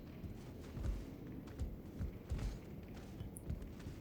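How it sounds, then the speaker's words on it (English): Footsteps in Elden Ring, a series of soft, muffled thuds at an uneven pace, faint and distant against a low background rumble. "I hear footsteps."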